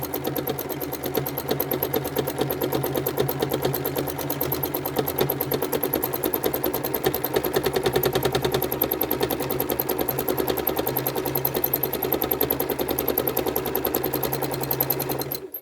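A sewing machine runs steadily while free-motion quilting repeating curves around a block, its needle hammering in a fast, continuous rhythm close up, loud and alone.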